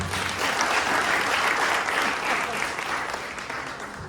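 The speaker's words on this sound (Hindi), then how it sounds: "एक सिस्टर के लिए ताली बजाते हैं" An indoor seminar audience claps steadily for several seconds, a dense, even burst of applause that fades slightly toward the end.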